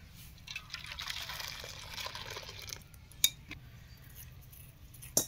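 Thickened milk poured from a pan into a bowl gives a soft liquid rush for about three seconds, followed by a couple of light clinks of utensils, quiet and close.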